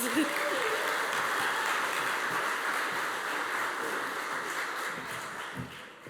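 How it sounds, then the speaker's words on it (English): Audience at the 2023 InnoVision Awards celebration gives a round of applause, a sustained wash of clapping that gradually thins and fades toward the end. "Let's give her a round of applause."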